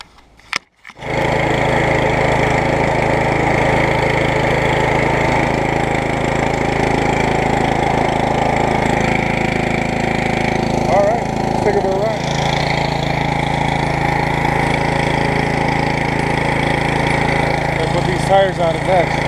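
A riding lawn mower engine runs steadily just after a drive belt change, a loud, close, continuous drone that starts abruptly and holds an even pitch to the end.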